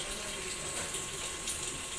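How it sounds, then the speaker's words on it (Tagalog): Steady rushing water pours continuously as a Fujidenzo top-load washing machine fills through its inlet valve, a dense even hiss with no pauses or talk. "Nakakarga na siya ng tubig."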